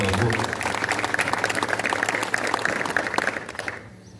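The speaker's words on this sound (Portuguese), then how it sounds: "Você pode aplaudir o Senhor bem forte, por favor?" A church congregation at a Friday worship service claps loudly together for several seconds, a dense, steady applause that fades out quickly at the end.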